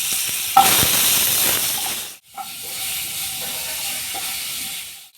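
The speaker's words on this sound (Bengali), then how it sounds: "এবার আলুগুলো ভেজে নেব।" Potato pieces fry in hot oil with turmeric and salt, a loud continuous sizzle with a brief sharp crackle, cut off by a short pause before the hissing resumes steadily.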